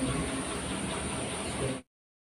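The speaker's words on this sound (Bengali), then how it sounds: "আর কলা, কাঁচা কলা ভাজবো" Raw plantain sizzles and hisses steadily in a hot frying pan, a close, continuous frying noise that stops abruptly after a couple of seconds.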